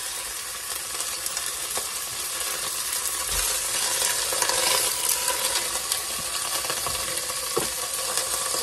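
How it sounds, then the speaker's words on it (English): A beef roast sears in a hot pan, giving a loud, steady sizzle throughout with scattered pops and occasional scraping as it is moved. "The main thing is getting the roast or whatever cut of beef you're using seared up."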